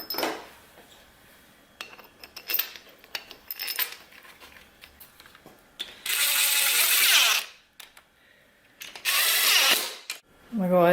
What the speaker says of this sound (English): I'm going to go ahead and torque all these to 18 foot-pounds.